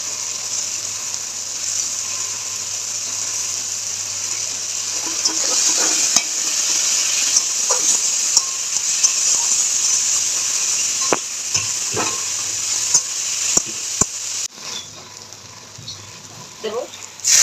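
Masoor dal (red lentils) stirred in hot mustard oil with green chilli gives a loud, continuous sizzle, broken by scraping spoon clicks, and it eases briefly near the end.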